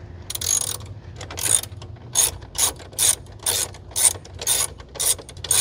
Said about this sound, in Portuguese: A chave catraca é vida, né, pessoal?